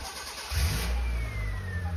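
A Proton Wira's engine cranks and catches, settling into a low, steady idle with a rough rumble, heard close up with no talking.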